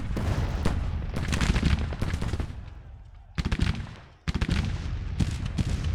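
Civil War musket and cannon fire from a Grand Tactician battle crackles in dense, rapid volleys, with a brief lull midway before loud bursts resume.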